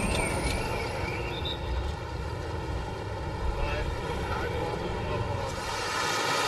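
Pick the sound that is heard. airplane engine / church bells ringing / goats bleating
airplane engine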